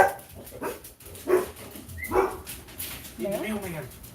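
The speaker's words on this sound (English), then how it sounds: "I really wish they wouldn't bark" Several dogs bark at a mail carrier in a few short bursts, mid-distance, with a person talking over and between the barks.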